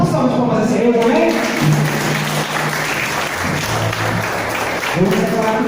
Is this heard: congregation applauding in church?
yes